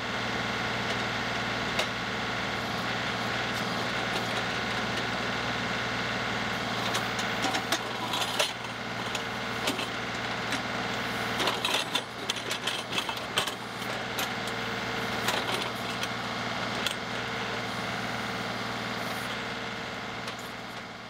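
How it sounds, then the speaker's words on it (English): A tractor with a backhoe attachment runs at a steady idle-to-medium chug while digging around a giant tree stump, with intermittent clanks and scraping bursts over the constant engine drone. "I'll go get the backhoe on the tractor and come try digging around on this"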